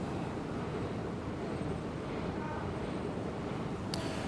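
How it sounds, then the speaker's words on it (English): Steady broadband wind rushes across the microphone outdoors at Hudson Yards in Midtown Manhattan, constant and fairly loud throughout with no let-up, with a brief sharp click near the end. "I just wish it was a little bit less windy over here"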